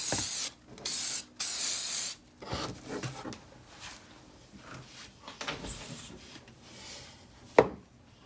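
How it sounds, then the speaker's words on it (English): Bursts of hissing aerosol sealant spray over a glitter stencil vinyl project start and stop a few times, followed by quieter rubbing and handling noises and a sharp tap near the end. "I'm just spraying the whole thing, so this whole thing will get sealed."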